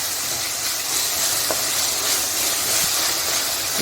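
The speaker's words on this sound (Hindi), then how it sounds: "इसको 1-2 मिनट अच्छे से भूनेंगे बड़े गैस पे।" Onions and tomatoes frying in oil on a high flame, giving off a loud, steady, bright sizzle and hiss that holds evenly throughout, with faint occasional clinks.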